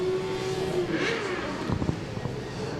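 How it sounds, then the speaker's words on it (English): A Yamaha R6 racing motorcycle at a club race meeting revs up, a high engine whine rising and falling over loud steady background noise, with a few sharper bursts near the end. "I hear him winding up that R6 here through our commentary box"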